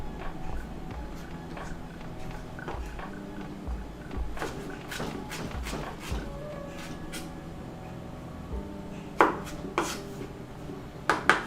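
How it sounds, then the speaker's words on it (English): Knife chopping julienne carrots for a salad on a cutting board, a run of irregular taps with a few sharper knocks near the end, fairly close and moderately quiet. "Little julienne carrots. And so remember, we're cutting here for the salad"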